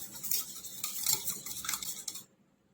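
A spoon briskly whisks spiced curd with cumin powder, red chilli powder and black salt in a bowl, giving close, rapid scraping clinks that run steadily for about two seconds and then stop.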